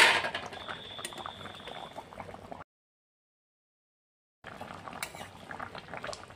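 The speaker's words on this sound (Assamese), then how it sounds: "আলুৰ দমটো হৈ গ'ল প্ৰায় আৰু এবাৰ লৰাই দি আছোঁ" Potato and egg curry (aloo dum) bubbling gently in a pan as it is stirred, a soft wet simmer with light clinks, broken by a couple of seconds of total silence midway.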